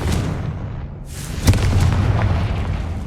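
In the Hogwarts Legacy video game, the Confringo spell goes off as a heavy booming explosion, a muffled blast that swells into a deep rumble with a sharp crack in the middle.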